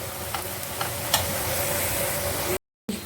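Onions fry in a pan with a steady, moderate sizzle and occasional soft stirring clicks, broken by a short silent gap near the end.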